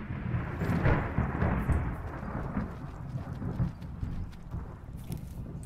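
Horse hooves clip-clop steadily while a rider travels in the video game Skyrim, mixed with a rumbling, rain-like ambient wash and no talking.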